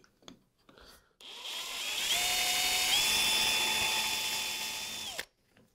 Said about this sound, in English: Now that we have our pilot hole drilled